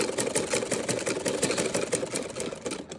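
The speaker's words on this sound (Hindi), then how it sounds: "अब हम इसको सिलाई लगाते हैं।" Sewing machine stitching along the edge of a folded fabric strip, a steady close rapid clatter of needle strokes that holds its pace without pause throughout.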